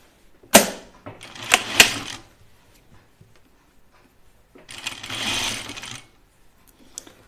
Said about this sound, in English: so now I'm gonna sew my French seam